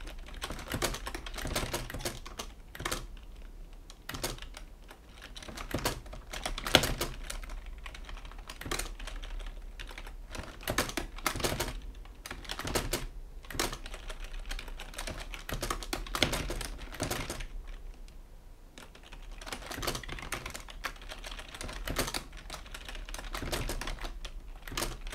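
Steady typing on a non-mechanical computer keyboard, with quick bursts of soft key taps and short pauses running throughout, close and clear with no voices.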